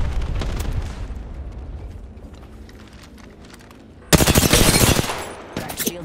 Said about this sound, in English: Fox 3, launching missiles.